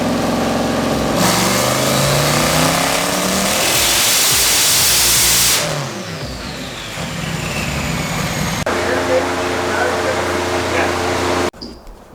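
A time attack car fitted with an 88mm turbo and turned-up boost revs hard and loud, holding a dense engine roar, then dropping to a lower, rougher note before cutting off abruptly.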